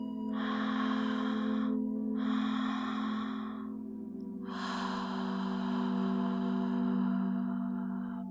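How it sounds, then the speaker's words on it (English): Slow, deep breaths during a guided breathwork session: two drawn inhales followed by a longer release on the exhale, close and clear over a soft steady musical drone. "Feeling the release on the exhale, last round."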